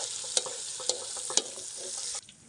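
Okra roasting in a pan sizzles steadily while a utensil scrapes and stirs a few times as the pieces are lifted out, close by, with the sizzle dropping off sharply near the end.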